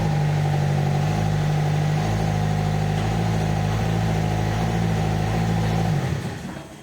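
A steady, loud 2.2 diesel engine of an Opel Frontera idling with a deep low rumble and mechanical chatter, with a P0606 fault and injection pump problem, then cutting off abruptly near the end.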